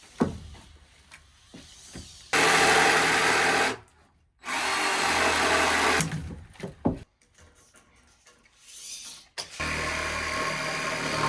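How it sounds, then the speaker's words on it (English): Power sanding dried concrete off 2x4 boards, loud close whirring bursts of a few seconds each separated by quieter pauses with small knocks and handling noises. "Trying to get all that dried concrete off is ruining my sandpaper."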